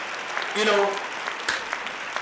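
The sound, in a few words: clapping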